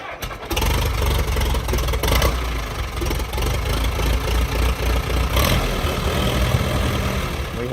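A 1951 Case DC tractor engine cranks, catches and settles into a loud, steady idle. The heavy chugging rumble continues throughout, close up, with no speech over it.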